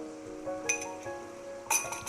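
A metal spoon clinks against a duck curry pot as thick coconut milk is added, two bright ringing clinks about a second apart, close and clear over quiet kitchen background.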